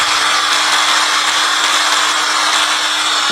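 A DongCheng DSM21-100E electric angle grinder runs steadily at high speed, giving a loud, continuous whine with a constant hum and no speech over it.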